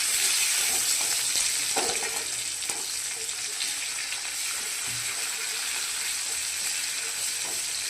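Onion with a pinch of black cumin sizzles in hot oil, a steady close hiss with a few faint stirring clicks, no voices.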